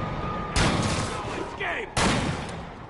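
Sniper rifle fire aimed at Spider-Man in a Spider-Man video game: two loud, sharp cracks about a second and a half apart, each trailing off into echo over busy city game noise.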